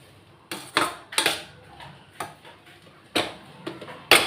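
Fried rice tossed in a pan, with a spatula scraping and clanking against the metal in sharp, irregular bursts that land close and loud.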